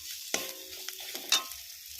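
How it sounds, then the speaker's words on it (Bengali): Ground turmeric, chili and coriander powder fry in a pan while being stirred, a faint sizzle broken by a few quick scrapes and clinks of the spoon, close by. "এবার আমি এটাকে একটু মিক্স করে নিয়ে একটু কিছুক্ষণ কষবো।"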